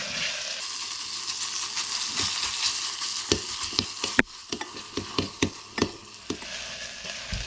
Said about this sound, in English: we're gonna cook our tomato paste for about 5 minutes